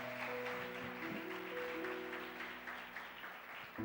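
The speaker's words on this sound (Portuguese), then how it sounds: "Quem ama a palavra de Deus, dê a melhor salva de palmas à palavra de Deus." Congregation applause during a church worship service, a steady wash of clapping through the whole stretch over sustained organ or keyboard tones and a faint voice.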